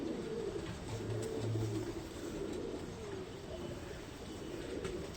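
Racing pigeons from a long-distance racing loft coo softly in short low murmurs, with a steady background hum throughout.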